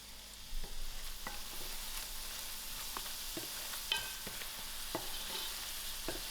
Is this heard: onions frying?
yes